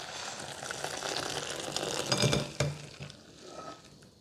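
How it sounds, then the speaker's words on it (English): Boiled vegetables cooked in salted water are drained from a pot: a steady rush of pouring, splashing water with a few glassy clinks and metallic knocks, fairly close and loud, ending in a brief drip-like tail. "I'll drain my veggies."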